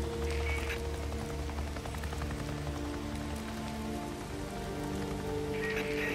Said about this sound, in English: Seems like it's always raining out here.